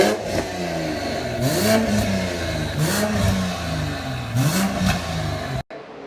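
Toyota Supra with a B58 engine and Valvetronic Designs exhaust revving loudly in repeated rising and falling pulls. It sounds raw and aggressive up close, then cuts off abruptly near the end.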